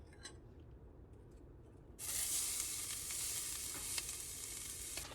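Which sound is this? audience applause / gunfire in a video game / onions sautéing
onions sautéing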